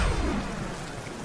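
A rain ability effect in the SMITE video game gives a dense, loud wash of broadband hiss like heavy rainfall with a low rumble, steady and unbroken.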